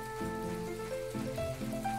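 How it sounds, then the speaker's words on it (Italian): Steady rain patters down in the farming life game My Time at Portia, a continuous wash of drops beneath soft tonal game music. "Peccato che piova"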